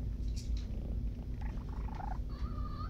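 A rescued cat purring up close: a steady low rumbling purr that continues throughout, with faint high chirps and squeaks softly over it.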